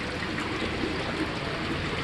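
Grey water from an RV holding tank draining through a sewer hose, a steady, close rush and trickle of flowing water.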